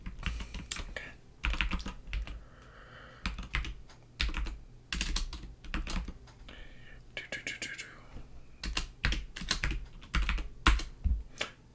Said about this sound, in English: You're getting me as I'm typing all this up.